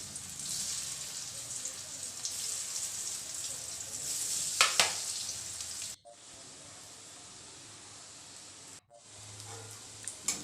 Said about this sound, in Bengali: তেলের মধ্যে এবার ওই ধোকাগুলোকে ভেজে নিয়ে নেব একটু লালচে লালচে করেই ভাজবো